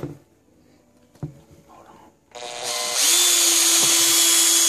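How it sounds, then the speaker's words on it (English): After a few quiet clicks and knocks, a drill spins up and bores the air hole in a Kayfun vape atomizer steadily, its whine growing loud and continuous near the end. "So you're just gonna keep drilling and keep it as straight as possible."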